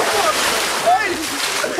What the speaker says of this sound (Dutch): Ik ga als eerst in het water.